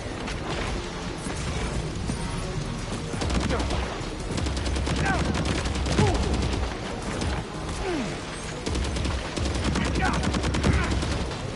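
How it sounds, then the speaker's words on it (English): Rapid assault rifle fire in a video game, loud sustained bursts of gunfire with mechanical clatter and booms running nearly nonstop, with a voice faintly beneath the shooting. "Assault rifle."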